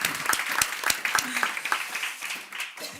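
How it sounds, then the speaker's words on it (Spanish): An audience applauds at a panel forum on nationalism, with a short burst of clapping from a modest crowd that fades away within a few seconds. "vamos a primero aplaudirte a ti"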